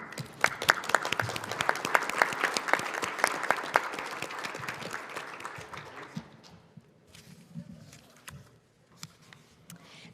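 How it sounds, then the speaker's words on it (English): Applause from delegates at an OSCE Parliamentary Assembly Standing Committee meeting, a dense run of many hands clapping in a hall, strong at first and then thinning and fading into scattered claps. "I think they all deserve a round of applause"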